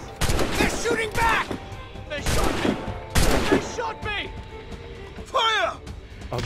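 Musket and cannon volleys from a naval battle in Assassin's Creed Rogue crack in loud bursts, mixed with shouted orders and crew voices throughout.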